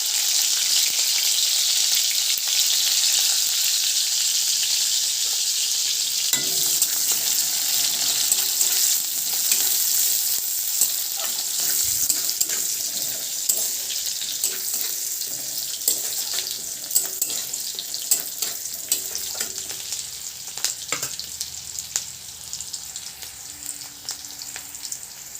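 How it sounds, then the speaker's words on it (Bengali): Spices are tipped one by one into hot oil in a home kitchen pan, giving a steady loud sizzle and crackle throughout, with occasional stirring clinks and faint tonal sounds in the background. "তেলটা গরম হয়ে গেছে, এবার আমি একে একে সব মশলাগুলো দিয়ে দিই"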